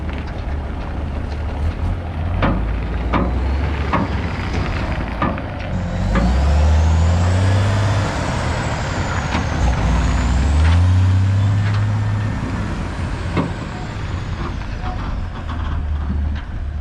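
An old Mack truck is hauled off the land, heavy engine rumble swelling and easing in long waves, loud and near, with air-brake hiss and a faint whine above, voices briefly under the noise.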